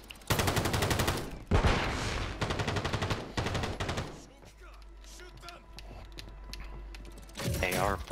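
Rapid bursts of gunfire, fast repeated shots in dense strings lasting a second or more each, loud and close, followed by quieter scattered mechanical clatter.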